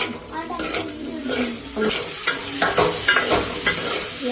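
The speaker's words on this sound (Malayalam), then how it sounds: "നന്നായിട്ട് ഇളക്കിക്കൊണ്ടിരിക്കുക" Chicken, capsicum and onion are stirred in a pan, with a bright continuous sizzle and repeated scraping and clinking of a utensil against the metal, faint voices mixed in.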